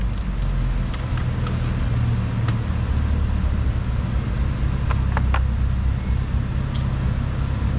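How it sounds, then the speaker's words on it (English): A loud dynamometer runs in a workshop during a Ferrari 360 timing service, producing a constant heavy low rumble and roar with a few brief clanks over the top, filling the whole stretch. "Sorry about the dyno, it's super loud."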